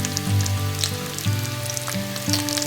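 Finely chopped onion frying in a pan for a wild-vegetable dish, giving a steady close sizzle with faint crackles and no voices.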